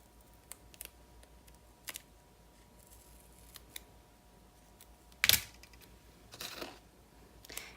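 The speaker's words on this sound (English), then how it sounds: "I'm going to cut off the excess tape." Scissors cutting score tape for a pop-up card, a few quiet, sparse snips and clicks with one sharper cut standing out in an otherwise hushed room.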